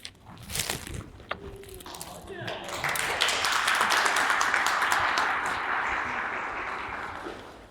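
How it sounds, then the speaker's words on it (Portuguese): A church congregation claps for performers at a Portuguese-language service; a few scattered claps build into sustained, dense applause that fades slowly, with voices talking over the start. "Uma salva de palmas para elas."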